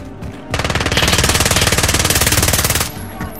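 The war machine in Rebirth Island letting loose a long, loud burst of extremely rapid gunfire, about two and a half seconds of tightly packed shots, alone and up close.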